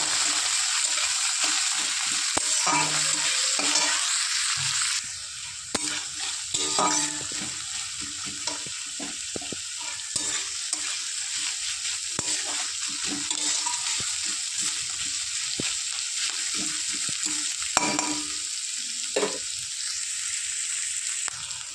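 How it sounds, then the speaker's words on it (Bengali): Chopped onions sizzling steadily in a hot pan, with repeated scraping and stirring clatters on top, close up and with no talking. "পেঁয়াজটা একটু হালকা ভেজে নেবো"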